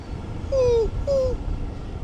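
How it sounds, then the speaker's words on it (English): A dog on a beach on Siargao Island in the Philippines gives two short whining yips in quick succession, close and fairly loud over steady outdoor wind and surf noise. "What's up, doggy? Roof, roof."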